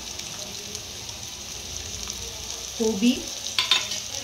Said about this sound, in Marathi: फास्ट गॅसवरच आपल्याला हे परतवून घ्यायचंय।